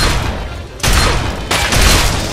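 Heavy weapons in Fallout 3 blast in loud, booming bursts, dense overlapping explosions and gunfire close by with brief lulls between volleys.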